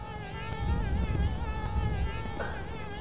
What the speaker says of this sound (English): Oh, there's the bees! There they are!